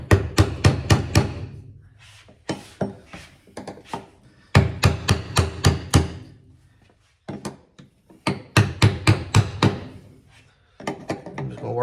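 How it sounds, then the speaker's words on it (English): Heavy hammer blows fitting aftermarket fuel rails onto a truck intake land in rapid bursts of five or six strikes, separated by brief pauses, loud and close with sharp solid thuds. "Make sure you get your biggest hammer you can find."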